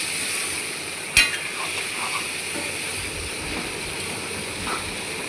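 Jackfruit seed curry sautéing in a pan with salt and turmeric, a steady close sizzle and hiss with a single sharp clink of a utensil early on and faint stirring after.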